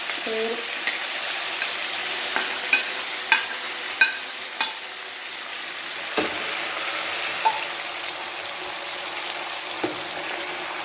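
Chickpeas frying in hot oil: a steady, even sizzle and hiss fills the whole stretch, broken by occasional light clicks and taps of a utensil against the pan, close and continuous, with no clear talk.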